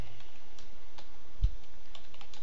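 Soft, steady clicking of a computer keyboard as someone types code in R, a quiet run of scattered keystrokes with one slightly heavier tap midway.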